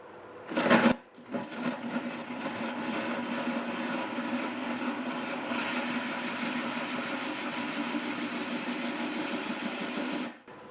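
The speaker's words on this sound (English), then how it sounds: "I want to start getting that grinding process going in that hole." A steady, continuous grinding whir of a drill bit cutting through the glass of a small aquarium, holding level for about ten seconds after a brief louder burst at the start.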